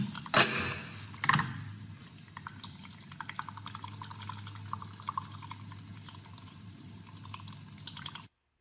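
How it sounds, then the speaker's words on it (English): Water is added by hand to a small laboratory beaker fitted with a mixer, opening with two sharp clinks, then a steady low mixer hum under light splashing and dripping. "we'll manually add water"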